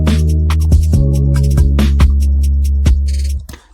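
A deep sub bass line from a music production session booms as a thick, sustained low drone with sharp percussive hits layered on top. It cuts off abruptly near the end.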